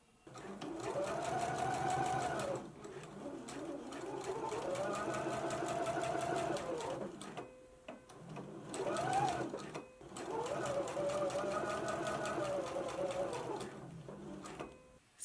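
Close sewing machine stitching a hem band on a garment, in three long steady runs of rapid whirring broken by brief pauses.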